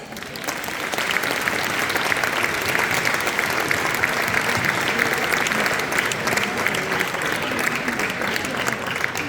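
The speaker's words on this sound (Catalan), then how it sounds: "un fort aplaudiment per ells" A large crowd gives sustained, even applause for fourth-year pupils at the Gurb Festa Major proclamation for the village schools' centenary, a thick continuous wash of clapping that holds steady throughout at a moderate distance.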